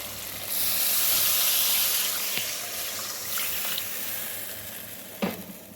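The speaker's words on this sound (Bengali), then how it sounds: "এবার আমি দিয়ে দেবো ঝোল।" Fish curry gravy poured into a hot frying pan: a loud, hissing sizzle that surges and steams, then settles into a steady bubbling fry with a couple of utensil knocks near the end.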